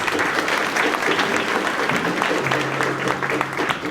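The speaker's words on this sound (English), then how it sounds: "let's give them a round of applause" A school spring concert audience gives a round of applause for the recording and camera crew, a continuous, close, loud roar of many hands clapping that stays even throughout.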